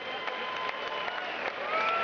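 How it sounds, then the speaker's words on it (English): An audience at a fight event applauding after a 57-kilogram boxing bout, a steady wash of clapping from a crowd at moderate distance, with a voice faintly underneath. "Big round of applause."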